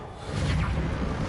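A Reparo repair spell in Hogwarts Legacy, cast to mend a damaged bridge, sounds as a swelling magical whoosh with a shimmering sweep that builds after a brief moment and holds steady, loud and close.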